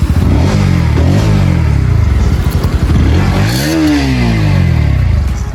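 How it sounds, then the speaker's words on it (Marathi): A motorcycle engine fires up close by and revs repeatedly, its pitch climbing and falling in loud bursts. The bike has no silencer, so the exhaust is harsh and raw. "आता आपण जे आहे ना ही गाडी स्टार्ट करू"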